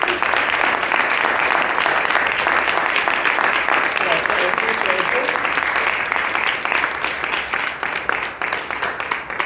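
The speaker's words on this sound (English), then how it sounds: "Shall we give Bob another round of applause?" Audience applause after a short presentation talk, a dense, steady wash of many hands clapping for about nine seconds, thinning slightly toward the end, with faint voices mixed in.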